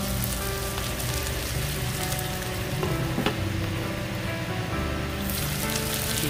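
Chicken with onion and chili simmers and sizzles steadily in a pan, a close, continuous bubbling crackle with no speech, running evenly throughout.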